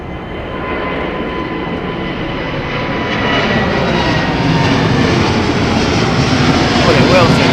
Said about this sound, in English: Very low Dreamliner departure.